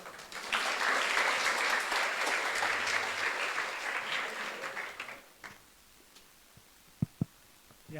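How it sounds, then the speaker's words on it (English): An audience breaks into applause welcoming a speaker to the stage at a competition, a loud wash of clapping that fades out after about five seconds, leaving near silence with a couple of sharp taps. "Please give a big round of applause to welcome him."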